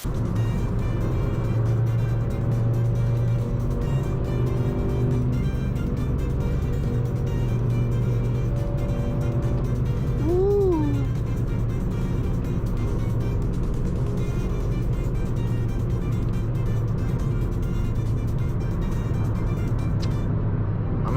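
An 8th generation Honda Civic Si engine revs hard from inside the car on a drive, giving a loud continuous drone with a rising pitch as VTEC engages partway through.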